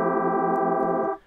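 A buzzy, harmonically rich synthesizer tone with rapidly modulated unison pitch variation holds steady and close for about a second before cutting off abruptly.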